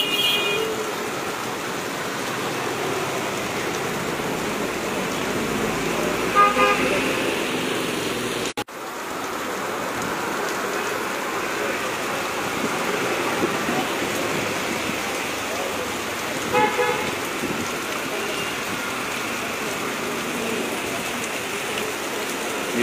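Heavy rain pours onto a city street in Sylhet, a dense, continuous roar of drops hitting the pavement, loud and steady, with faint traffic beneath it.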